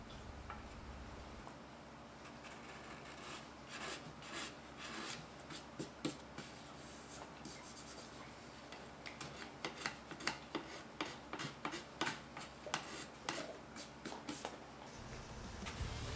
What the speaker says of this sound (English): Here I'm actually using a card scraper to get some of the finish that was left over off.